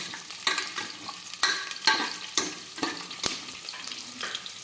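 Onions, cumin, fenugreek seeds and curry leaves frying in hot oil, with a steady close sizzle broken by repeated scraping strokes of a stirring spoon against the pan.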